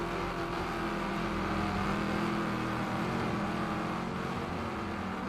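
Race cars in the Wreckfest 2 video game, a continuous engine drone with shifting revs at moderate loudness and no speech over it.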